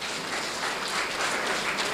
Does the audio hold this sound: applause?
yes